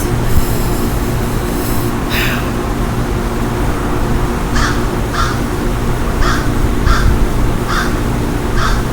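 A crow caws in short repeated bursts, a couple early and a rapid series toward the end, fairly near over a steady low rumble resembling a passing train.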